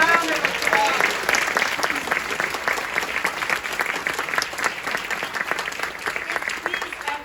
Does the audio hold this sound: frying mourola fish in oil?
no